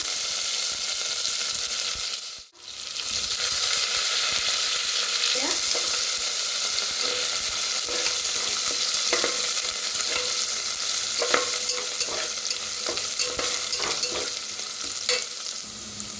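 Crushed garlic and green chili paste fry in hot oil with mustard seeds, cumin and asafoetida as a tempering, a steady close sizzle with stirring scrapes throughout and a brief dip near the start.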